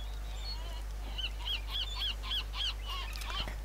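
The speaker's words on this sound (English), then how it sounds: "Seagulls." Seagulls call in the video game Stronghold 3, a run of short nasal cries repeating in quick succession over a low steady hum, moderately faint and somewhat distant.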